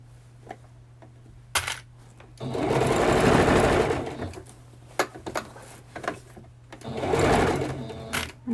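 Sewing machine stitching along a skirt edge in two loud sustained runs, separated by quieter clicks and handling noise as the corner is pivoted and the presser foot lowered, over a steady low hum.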